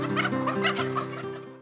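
Chickens on a poultry farm cluck and cackle in a busy overlapping chorus, close and moderately loud, with a steady mechanical hum underneath.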